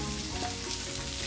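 Garlic frying in about two spoonfuls of oil, a brief dense crackling sizzle, close and steady, with no voice.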